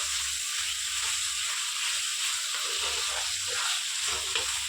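Finely chopped tomatoes sizzle with spices in a kadai pan while cooking a chicken kadai pulao, giving a steady, close, bright frying hiss with faint bubbling underneath and no talking.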